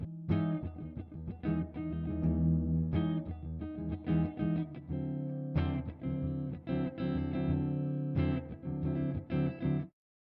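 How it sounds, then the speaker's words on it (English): Electric guitar played through an echo delay effect pedal, strummed chords and notes repeating in close succession with a ringing, sustained tail, loud and alone throughout. "the echo effect takes the output of the guitar and echoes it based on a delayed time"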